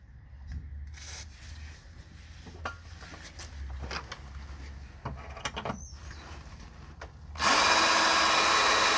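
A power drill drives a self-tapping screw while an oil catch can is fitted to an H22-swapped Honda Civic. Close rubbing and handling scrapes lead into a loud, sustained burst of drilling over the final seconds.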